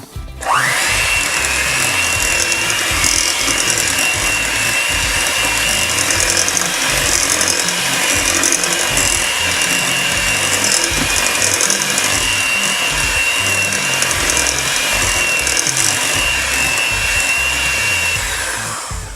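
An electric mixer whirs steadily as it beats two eggs into red velvet cookie dough, a loud continuous motor drone starting abruptly and holding nearly unchanged for almost twenty seconds, with no talking.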